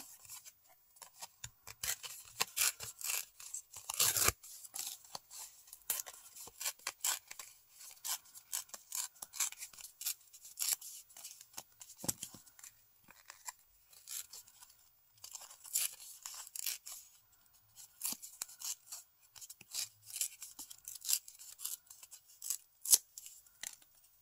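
Scissors snip through paper for an artist trading card collage, with quiet, irregular cuts and light crunching and rustling that keep going steadily with no talking.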